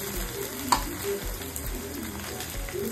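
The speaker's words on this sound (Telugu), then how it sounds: "ఇప్పుడు నెయ్యి వేసుకుందాం" Ghee sizzles steadily in a pan for pulao brinjal masala, a continuous close frying crackle with a few small pops and no voices.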